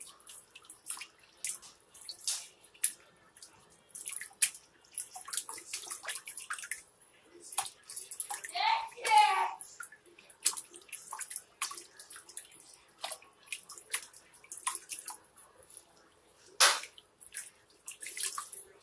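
Soft, close water sounds from a baby's first bath, with light splashes and drips from plain water being wiped over the infant's head, scattered and quiet through the clip and louder around the middle.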